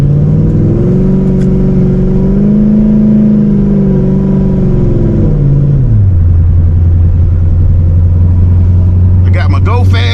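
A supercharged C6 Corvette cruises on a highway, its engine droning loudly from inside the cabin, with pitch shifting before settling into a steady low rumble.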